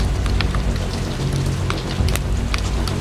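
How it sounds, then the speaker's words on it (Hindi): Heavy rain pounds steadily against glass, a dense, close, continuous patter with sharper drops scattered through it and no voices. "बाहर अचानक से बारिश लगी, ठीक जोर से कड़ कड़ कड़ कड़ कड़ कड़ कड़ कड़ शीशे ही तोड़ दे बारिश"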